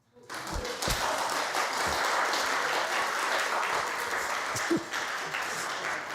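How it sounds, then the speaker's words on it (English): An audience at a gathering breaks into applause that swells quickly and holds steady, a dense wash of many hands with a few louder nearby claps standing out. "It's okay to applaud."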